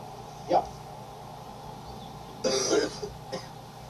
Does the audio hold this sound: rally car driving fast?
no